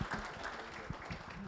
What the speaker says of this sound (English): join me to really give a round of applause to these panelists